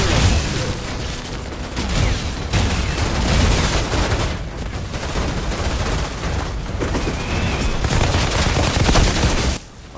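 Gunfire in the Outriders prologue on Xbox Series X, a dense, sustained barrage of rapid shots and bursts running nearly ten seconds, loud and close, with booms mixed in and cutting off abruptly at the end.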